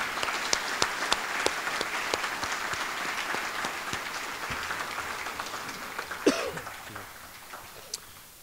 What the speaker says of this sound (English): Let's give all of our recipients for EMS applause.